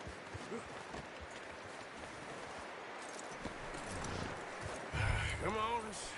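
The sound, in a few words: horse hooves clip-clopping in the video game Red Dead Redemption II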